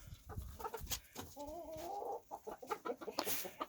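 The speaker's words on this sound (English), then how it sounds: "See, they got their crow on." Naked neck chickens (turkins) crowing and clucking nearby, with short clucks around one drawn-out crow, fairly quiet and without talk.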